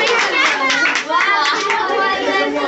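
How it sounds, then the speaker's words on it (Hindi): Children in a classroom clap in a lively, uneven burst close by, with kids' voices chattering over and through the clapping. "तालियां तालियां।"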